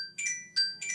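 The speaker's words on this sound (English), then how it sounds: "That's my phone." A mobile phone ringtone plays three short bursts of bright, tonal electronic beeps in a steady repeating pattern, fairly close and clear with no talking over it.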